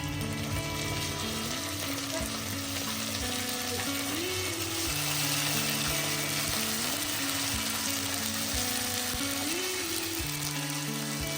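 Onions fry in a pan as ginger, garlic, cumin and onion pastes are added, a steady close sizzle running throughout over sustained tonal background sounds.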